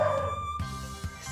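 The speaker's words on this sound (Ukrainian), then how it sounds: "там у нас собачка на фоні скавчить, гавкає" A dog outdoors whining with high wavering whimpers followed by a couple of short soft yips, faint and distant in the background.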